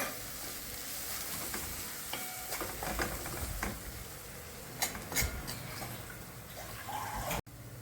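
Turmeric and red chilli powder are stirred through paneer bhurji in a pan. The sizzle is quiet and continuous, with scattered spoon scrapes and light knocks against the pan and no talking.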